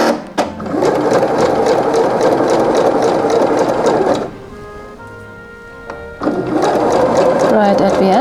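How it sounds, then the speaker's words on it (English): A sewing machine stitches the underside of a classic button-down shirt, running in loud, steady bursts with a roughly two-second pause in the middle before the motor starts up again. "First I sew the underside"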